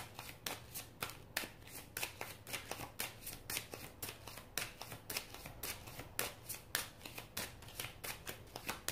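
Tarot cards are shuffled for a reading in quick, rhythmic riffles and snaps, heard close and clear in a steady repeating pattern for several seconds with no voice over them.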